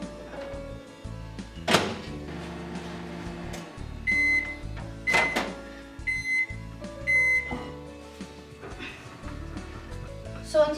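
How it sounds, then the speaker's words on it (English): A microwave oven heating a fudge mixture, with a steady low hum, several beeps and a thunk from the door, close by and alone. "Now you put your mixture in the microwave for"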